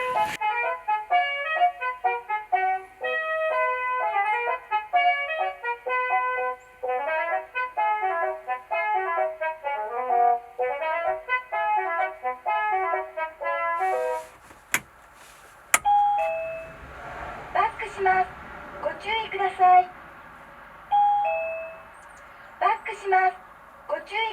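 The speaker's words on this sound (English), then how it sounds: "that's the reverse backup sound" A vehicle reverse backup alarm's repeating electronic tone pattern beeps rhythmically for several seconds, then single tones and clicks sound in separate bursts.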